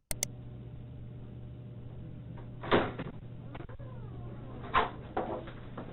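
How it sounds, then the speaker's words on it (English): A door opened by a detective, a couple of soft clunks and a brief creaky scrape against a low steady hum, fairly faint and without speech. "He will hear the sound of the door being opened by a detective."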